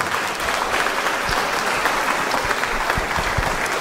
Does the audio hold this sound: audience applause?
yes